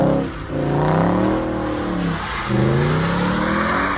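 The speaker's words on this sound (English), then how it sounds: "Specifically to hear the soundtrack of the naturally aspirated V8." An Audi naturally aspirated 4.2 liter V8 revs up with a rising, sweeping engine tone, dips briefly, then climbs again, loud and close with no talking.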